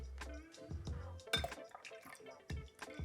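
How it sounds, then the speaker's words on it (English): Clarified piña colada slowly dripping through a filter, a few soft liquid drips and faint glassy clinks falling irregularly at close range, quiet against a low background hum. "So now it's slowing down to a drip"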